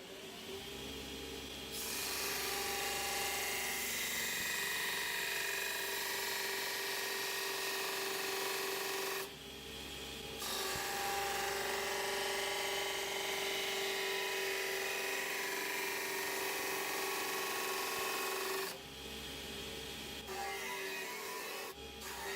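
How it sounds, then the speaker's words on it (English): A grinder puts a bevel on a mild steel knife blank held in a jig, giving a steady, faint whining grind. It eases off briefly twice before resuming. "Then I would clamp it on here and then run this against the grinder and it will hopefully give a bevel."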